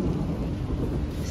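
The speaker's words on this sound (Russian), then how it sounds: "Сегодня целый день грохочет" Thunder rumbles through steady rain at a seaside resort in Vityazevo near Anapa, a loud, continuous low roar over the patter of rainfall.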